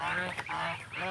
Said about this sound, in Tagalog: yan, yung gansa natin